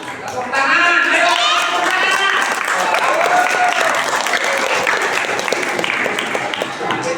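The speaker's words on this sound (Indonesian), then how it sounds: "Kasih tepuk tangan dulu semangat. Tepuk tangan, ayo." An audience at a Ramadan quiz competition claps loudly and continuously, close and energetic, while voices chatter and call out over the clapping throughout.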